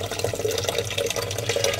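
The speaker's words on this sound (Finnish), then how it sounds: "Nyt otetaan vettä kulkaas täällä." Water runs steadily from a tap, a continuous close splashing hiss that carries through the whole short stretch without any talk over it.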